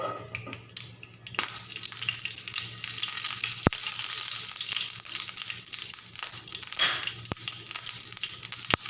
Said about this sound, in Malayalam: നമ്മൾ അതിൽ തന്നെ കടുക് ഇടുന്നുണ്ട്.